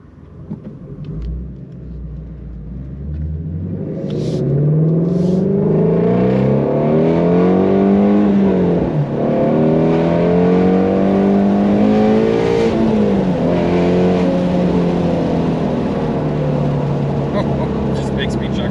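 A Ford Mustang GT350R's 5.2-liter Voodoo V8 revs loudly and close, climbing and falling in pitch in repeated rising sweeps over a deep rumbling idle.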